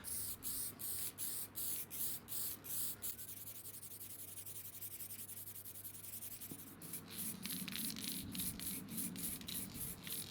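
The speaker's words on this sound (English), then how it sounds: "I used spray varnish." Spray varnish being sprayed onto a beech slab tabletop, heard as a steady hiss that begins with short bursts, holds through the middle and returns near and loud in repeated short spurts toward the end.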